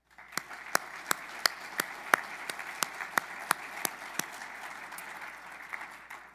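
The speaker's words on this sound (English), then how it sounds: "Please join me in giving a round of applause for Cass County Electric Cooperative and Xcel" Sparse audience applause at an energy summit, with a soft wash of clapping under a series of distinct, evenly spaced sharp claps that stand out, fairly quiet overall.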